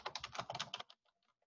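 A computer keyboard clatters in a quick, close burst of keystrokes lasting under a second, followed by a few faint, scattered taps.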